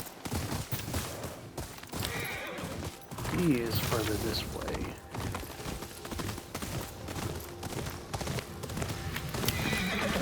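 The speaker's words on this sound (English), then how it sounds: "Thank you, teleporting horse." A horse in the video game Ghost of Yotei, hooves clip-clopping in rhythm with a clear neigh partway through, while a person talks over the game sounds.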